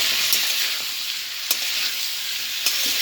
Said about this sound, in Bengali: নেড়ে চেড়ে কষাতে হবে।